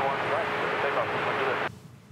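A medevac plane takes off from runway 31 right at Dallas Love Field with a loud, broad, roaring engine wash that holds steady and then cuts off abruptly, leaving quieter background.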